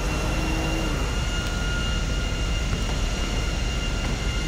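An airplane engine in GTA V drones steadily, a broad continuous roar with no break and no talking.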